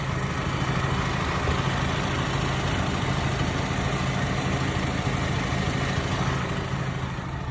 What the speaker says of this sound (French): la sonorité moteur n'est pas extra, ça vient surtout de l'arrière